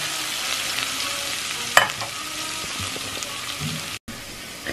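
Ginger and onions fry in hot oil in a pan, making a continuous close sizzle with occasional stirring scrapes, one sharp clink midway and a brief dropout near the end.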